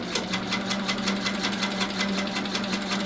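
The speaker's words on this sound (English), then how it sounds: "I'm going to start by stitching here." A sewing machine doing free-motion quilting stitches, a fast, even needle clatter with a steady motor hum, continuous and close.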